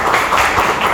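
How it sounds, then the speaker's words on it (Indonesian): Students in an Indonesian classroom give a short burst of hand clapping, a dense patter of many claps over about a second, fairly loud and close. "Tepuk tangan ya."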